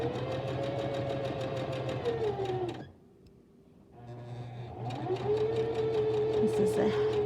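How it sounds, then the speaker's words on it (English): A sewing machine stitches a seam with a steady, close mechanical whir. It halts for about a second partway through, then starts up again at the same even pace. "So I'm going to go ahead and stitch my first seam after I put my presser foot down."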